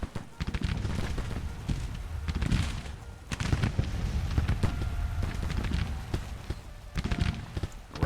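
Repeated gunfire crackles through a firefight in the war game GT:CW, irregular bursts of sharp shots, some near and some distant, running continuously at moderate volume under faint battle ambience.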